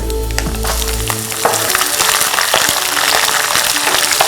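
Green chillies and onion frying in hot oil for poha, a loud close sizzle that flares after a low rumble at the start, with scattered stirring scrapes throughout.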